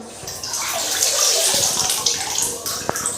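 Water splashes and trickles steadily while a baby is wiped clean, close and fairly loud, with a few soft knocks near the end.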